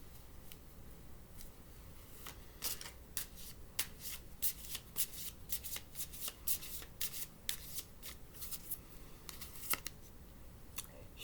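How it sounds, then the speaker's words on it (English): A tarot deck is shuffled by hand up close, a quick run of crisp riffling and flicking card slaps in uneven bursts over a quiet room, with no talking. "Now I'm going to pull a shadow card."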